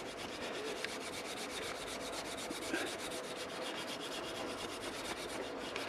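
A cloth rubbing excess oil off a wooden axe handle outdoors at a camp, a steady close scrubbing hiss with quick regular back-and-forth strokes, quiet and unbroken, with no voices.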